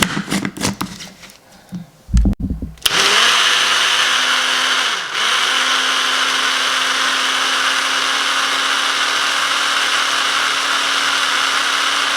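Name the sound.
blender blending Queen Afua's kidney-liver flush with oil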